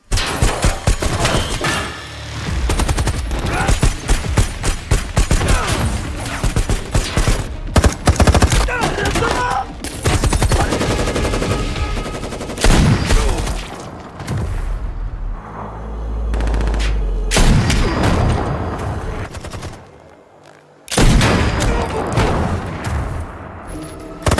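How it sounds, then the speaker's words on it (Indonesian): Intense gunfire exchange from an action film about a plane forced to land among armed militants: rapid machine-gun bursts, single shots and booms, nearly continuous and loud, with brief pauses and occasional voices. "jual beli tembakan antara Regu Penyelamat dan pasukan Cuntang pun terjadi"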